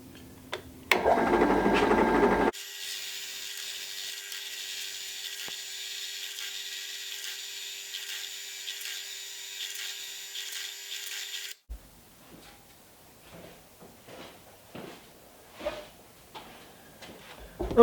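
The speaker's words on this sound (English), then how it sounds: "now I've got the blank mounted into the vise on the drill press" A drill press whirs at a steady pitch as it bores through a laminated wood pen blank held in a vise. The drilling runs about nine seconds, starts with a loud motor burst, and ends in quiet handling taps.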